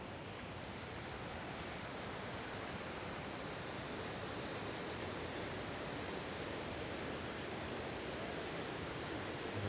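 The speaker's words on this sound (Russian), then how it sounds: "Вот он, водопад." The Kuk Karakuk waterfall roars in a steady, even wash of broad white noise that holds unchanged throughout, moderately distant and faint, with no voices heard.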